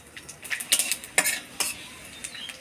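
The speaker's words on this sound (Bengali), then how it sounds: "এবার ফোড়ন দিয়ে দেবো শুকনো লঙ্কা, তেজপাতা, আদা, পাঁচফোড়ন।" Dried red chillies, bay leaf, ginger and panch phoron tempering in hot oil in a pan. Close, irregular stirring clinks and scrapes sit over a soft, intermittent sizzle, with no talking.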